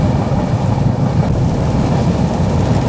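A train crosses the Jamuna rail bridge in Bangladesh, heard from onboard as a loud, continuous low rumble and roar of wheels and carriage with no distinct clatter rhythm.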